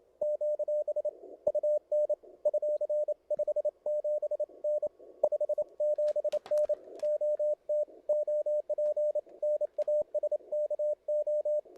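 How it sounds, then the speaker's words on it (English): Morse code received on an amateur radio beeps as a single steady tone in rapid keyed dots and dashes, continuing for the whole stretch over faint hiss and a brief burst of static. "can we use that same thing to listen to Morse code?"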